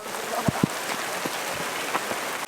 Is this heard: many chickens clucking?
no